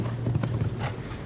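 Horse hooves clip-clop across the sand of a show-jumping arena at a Grand Prix Nations Cup event in La Baule, a steady rhythm of several muffled footfalls from a long-striding horse, fairly close and continuous.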